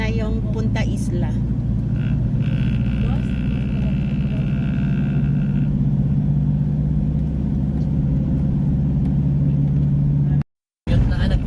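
A motorized tricycle ride on the way to tourist spots in Mindanao: a steady low engine drone and road rumble run throughout, loud and close, with brief higher whines, before a sudden short cutout near the end.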